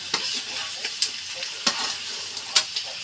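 Freshly caught fish, still alive, fries in a pan with a steady crackling sizzle, punctuated by several sharp pops and spatters, close and alone without speech.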